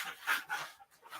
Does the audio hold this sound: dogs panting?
yes